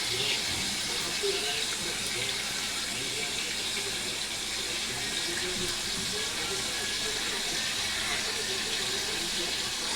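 Tap water runs steadily into a sink as something is rinsed underneath, a constant splashing rush at moderate level.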